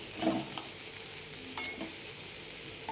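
Ridge gourd, potatoes and chilli powder are stirred in a hot pan, a soft steady sizzle broken by a few scraping strokes of the spatula, close up and fairly quiet with no voices.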